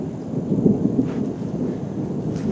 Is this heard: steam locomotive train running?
no